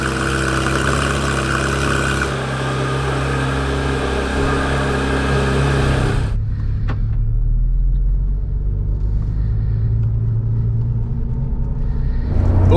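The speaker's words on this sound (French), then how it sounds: "Me voilà au volant de la Porsche 911R" A Porsche 911 R engine runs loud and close from inside the car, a deep, steady rumble that drops to a lower, quieter drone about halfway through, with a few faint clicks.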